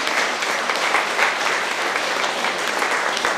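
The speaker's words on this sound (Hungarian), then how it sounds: "Még egy nagy tapsot kérek nekik." Audience at a Day of the Elderly celebration giving kindergarten children a big, steady round of applause, dense clapping sustained at even loudness throughout.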